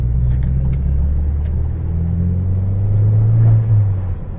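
Saab 9-5 Turbo4 with a rebuilt exhaust, a 3-inch stainless steel downpipe, a 100-cell race cat and a 3-inch system, driving with a steady low engine drone and road rumble, rising slightly toward the end before easing off.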